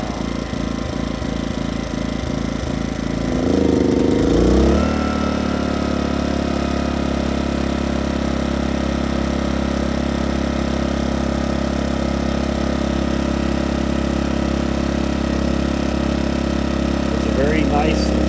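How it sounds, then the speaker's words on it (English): A Coleman Powermate PM2000 generator engine runs nearby with a steady mechanical drone, briefly surging before settling into an even, continuous hum that carries on to the end. "Very nice and quiet generator."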